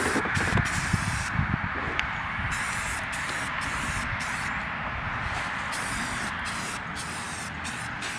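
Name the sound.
spraying Rust-Oleum primer from a spray can onto rusted seat frame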